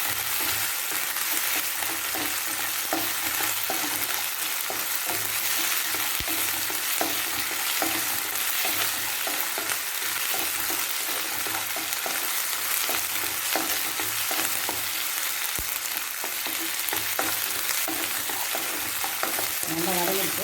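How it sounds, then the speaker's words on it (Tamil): Onion, ginger and garlic sautéing in a pan for a pepper chicken fry, a steady close sizzle with occasional stirring scrapes throughout, no talking. "வெங்காயம் வதங்கும்போது இஞ்சி பூண்டு நல்லா வதங்கிடும்."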